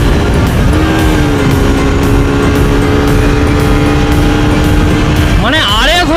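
An RS 200 motorcycle engine drones loudly and continuously, its pitch holding steady before climbing sharply in the final second as it accelerates.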